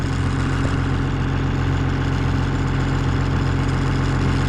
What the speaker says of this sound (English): I'm about ready to start the bush hog up.